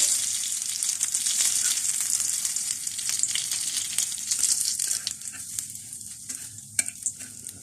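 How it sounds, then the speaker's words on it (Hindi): Aloo tikki coated in besan frying in oil on their sides, a close, bright, steady sizzle that thins toward the end, where a few sharp pops and light utensil taps stand out, with no speech. "साइड से भी इनको फ्राई कर लेंगे, क्योंकि ये बेसन है और बेसन को थोड़ा सा फ्राई होने में टाइम लगता है।"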